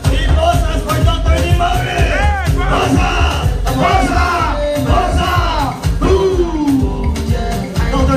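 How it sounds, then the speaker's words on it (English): A large crowd at a live training event in Abuja cheers and yells loudly and continuously, with chanting voices and whoops filling the hall throughout. "Can you please give big applause for Dr. Dean Morris?"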